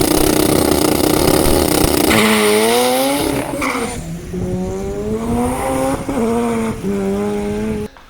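A Mazda 13B rotary-engined car revs loudly and close by, its pitch climbing and falling in repeated blips over a rough, buzzing idle, then cutting off abruptly at the end.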